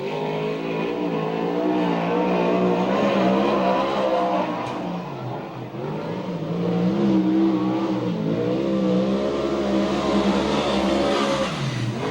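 Stinger Gresham sprint car engine at a USAC/CRA sprint car race in Santa Maria, California, roaring loud and steady throughout with rising and falling revs as it laps, no voices over it.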